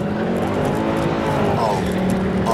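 Mercedes C63 AMG coupe sliding sideways on skinny spare tyres, its engine roaring loud and steady throughout with rising revs near the end, while someone talks over it.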